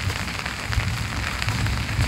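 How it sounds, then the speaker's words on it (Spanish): Light drizzle falls outdoors, a steady soft patter of droplets on surfaces spread evenly throughout with no voices. "está lloviznando"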